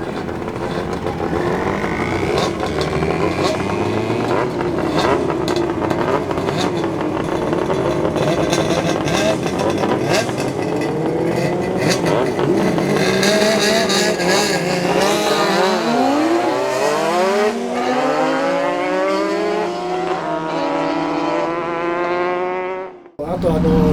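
Several motorcycles, including a Kawasaki KM90, ride past in a group with Japanese-made bikes, giving a steady, loud engine drone with rising and falling pitch sweeps as the machines pass, ending in a brief drop before the noise resumes.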